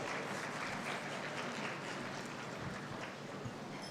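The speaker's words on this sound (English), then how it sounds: "A round of applause for this panel" Audience at an international conference on world religions applauding a panel, a continuous, evenly sustained burst of many hands clapping from start to finish, with no talk over it.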